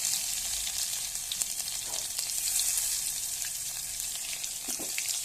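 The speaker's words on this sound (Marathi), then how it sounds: "आता लसूण चेचून फोडणी देऊया" Crushed garlic sizzles in hot oil for a tempering already holding mustard seeds, cumin and curry leaves, giving a steady crackling hiss with small pops and scrapes, close and fairly soft, with no talk.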